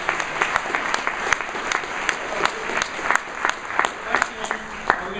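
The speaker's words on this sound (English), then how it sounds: "So another round of applause for the development team." An audience at a Passive House conference breaks into steady applause for a development team, a dense patter of many hands clapping that carries on evenly.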